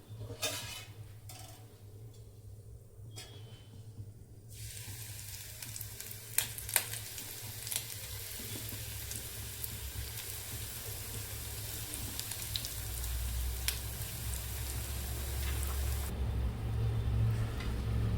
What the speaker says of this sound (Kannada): ಆದಷ್ಟು ಲೋ ಫ್ಲೇಮಲ್ಲೇ ಕಾಯಿಸ್ಕೊಂಬಿಡಿ ಫ್ರೆಂಡ್ಸ್ ತುಂಬ ಸೀದೋಗ್ಬಿಟ್ರೆ ಚೆನ್ನಾಗಿರಲ್ಲ ಬ್ರೆಡ್ಡು